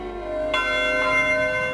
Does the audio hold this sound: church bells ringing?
yes